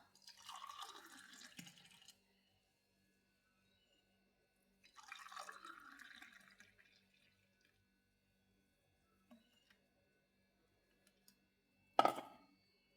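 Lemon juice is poured into two glasses in two separate streams, each a short close splash and trickle lasting about two seconds and quieting as the glass fills, followed by faint drips and a sharp knock.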